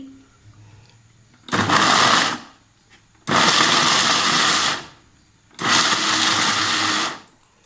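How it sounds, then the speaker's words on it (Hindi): Electric chopper grinding dried turmeric into a coarse powder, three loud whirring bursts of about one to one and a half seconds each, separated by short quiet pauses. "अभी मैं एक चॉपर लूँगी। अब मैं इसे पीसूँगी।"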